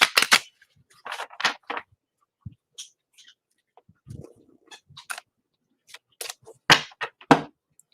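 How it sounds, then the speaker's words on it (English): A deck of reading cards is shuffled by hand: scattered soft snaps, flicks and clicks in uneven bursts, fairly quiet and close, with no talking. "Shuffle these cards up."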